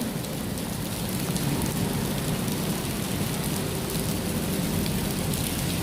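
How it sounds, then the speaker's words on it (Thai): Heavy rain pours steadily, a dense, loud hiss of drops hitting surfaces with no break and no voices. "โหฝนตก"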